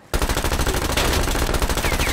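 Rapid automatic gunfire rattles in a sustained, loud burst during a Call of Duty: Black Ops Cold War match, starting abruptly and continuing without pause.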